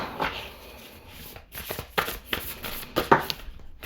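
Oracle cards being shuffled by hand during a tarot reading, a close series of papery riffles and soft slaps in irregular bursts, with no talk.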